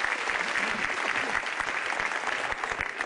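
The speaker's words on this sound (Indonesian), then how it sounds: "Tepuk tangan buat Metro TV." A stand-up comedy audience at a Metro TV anniversary show claps briefly, a dense burst of applause that holds steady for a few seconds, close and moderately loud.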